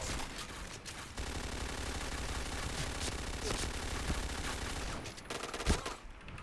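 Rapid automatic gunfire in the shooter game Point Blank, dense continuous bursts running for several seconds, then a brief lull with a single loud crack near the end.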